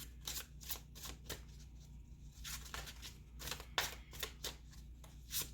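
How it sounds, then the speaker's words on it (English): Tarot cards being shuffled by hand, a series of crisp riffling bursts and soft slaps, close and distinct, with short gaps between shuffles. "This is the hard part of like shuffling on camera."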